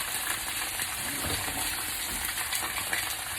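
Tap water running over a dirty pan in a kitchen sink, a steady broadband rushing gush with faint clinks underneath.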